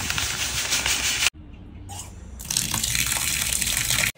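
Aquarium substrate being rinsed under running water, a close, steady gush and rubbing of gravel and water with a brief quieter break in the middle.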